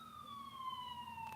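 A faint emergency vehicle siren, a steady electronic wail that slides slowly downward in pitch for a second or so, distant and alone with no talk.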